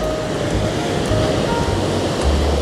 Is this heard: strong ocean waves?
yes